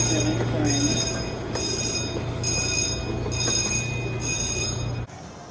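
Children's amusement park train ride rolling along at a steady pace, a continuous low rumble with a periodic high-pitched squeal repeating every second or so, close by, ending abruptly.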